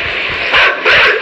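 A dog from the video game Inside lets out two sharp, loud yelping barks close by, one after the other, with no talking.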